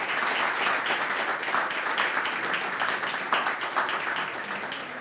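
An audience gives loud, sustained applause for former labour ministers of Argentina at a formal meeting, with dense, even clapping throughout.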